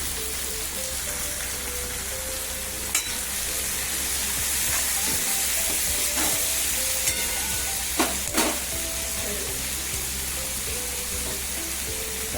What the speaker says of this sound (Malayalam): സവാളയും പച്ചമുളകും ഇട്ട് സവാള ഒന്ന് വഴറ്റി വരുമ്പോഴേ